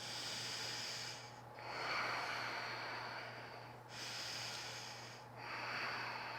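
Slow, steady breaths held through a yoga pose, each long inhale and exhale drawn audibly through the nose with a soft hissing airflow, close and quiet over a faint low hum.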